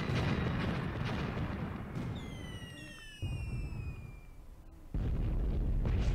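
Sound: artillery bombardment in the video game Graviteam Tactics

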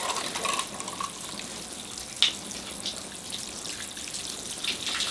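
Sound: water poured from watering can rinsing bonsai soil

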